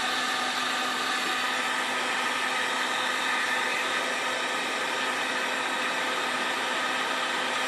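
A heat tool blows a steady, even roar, heating a part of a Chicago Pneumatic demolition hammer to melt wax into it; the hiss holds constant throughout with no talking.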